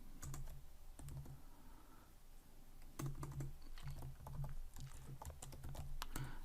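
Code being typed on a computer keyboard in clusters of crisp keystrokes with short pauses between bursts, close and fairly quiet, with no one talking.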